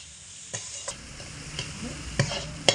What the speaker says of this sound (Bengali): এবার দিয়ে ভালো করে একসঙ্গে কষিয়ে নেব সবজিগুলোর সাথে।